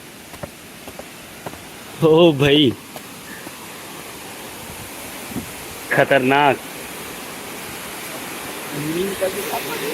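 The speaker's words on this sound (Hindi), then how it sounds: "इसकी आवाज़ जो आ रही है ना यार, वो ज़बरदस्त है। पानी की आवाज़। तो ये छोटा सा झरना है" A small waterfall in Nepal rushes with a steady, broad hiss of falling water, close and constant, as a man briefly exclaims twice over it.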